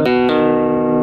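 A single sustained string note on a three-string cigar box guitar, slightly out of tune, rings with rich harmonics and is re-plucked once near the start, then decays slowly, close and loud with no talk.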